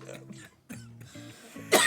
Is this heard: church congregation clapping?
no